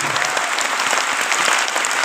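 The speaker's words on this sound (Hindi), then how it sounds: "एक बार जोरदार तालियां आपके लिए, आपके अप्लायंस के लिए, जोरदार तालियां" Loud audience applause at a motivational success event, a thick continuous wash of clapping from a large crowd, bright and steady without a break.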